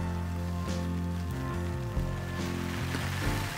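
Rain patters steadily on a tarp at a wilderness campsite in Woodland Caribou Provincial Park, a soft continuous pattering heard beneath tonal music throughout.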